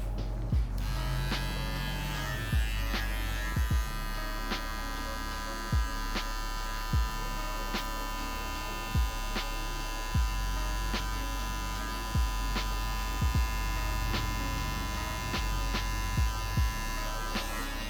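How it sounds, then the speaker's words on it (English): An electric hair detailer trimmer used to clean around the ears during a curly taper fade, giving off a close, steady buzzing hum broken by regular short clicks and pulses as it passes over the hair. "Now we're gonna go through with our detailer, and we're just gonna clean around the ears and sharpen up our lines"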